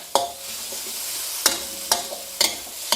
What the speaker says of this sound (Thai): เจียวหอมกระเทียมให้สุกหอมก่อนเลยนะ